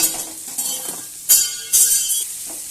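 Onion, green chili and five-spice seeds sizzle in oil for a Bengali fish curry with bori and potato, with stirring scrapes and bright bursts of spattering, close and fairly loud, with no talking.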